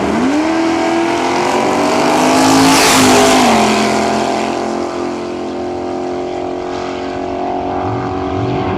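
A 383 Barracuda and a 23T roadster roar down a nostalgia drag strip at Cayuga, Ontario, with loud engines rising in pitch as they pass close by, then fading into a sustained distant drone.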